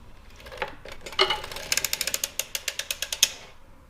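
An Erlbacher sock knitting machine clicks in a quick train of sharp mechanical ticks as needles are pushed down, around a dozen evenly spaced clatters up close, starting with a few scattered clicks.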